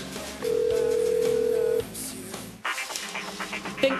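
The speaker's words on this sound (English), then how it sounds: "Oh, ringtones could just set a person right over the edge." A telephone ringtone sounds as a steady electronic tone for over a second, followed by muffled background noise, with no voice over it.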